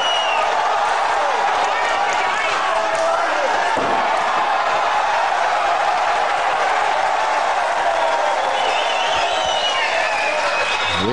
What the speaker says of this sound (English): Reaction from the crowd where McManus is thrown out of the ring is pretty unusual.